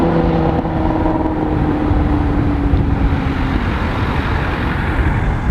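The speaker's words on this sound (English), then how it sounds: "the buses are all tumbling over each other up there in the distance" Heavy road traffic rumbling steadily, with buses among it in the distance. A continuous, loud, broadband drone holds through the whole stretch, and a low engine tone rises briefly in the first half. No voices are heard.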